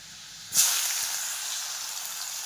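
Chopped tomatoes dropped into hot oil with garlic and turmeric give a sudden loud hiss, which settles into a steady, close sizzle.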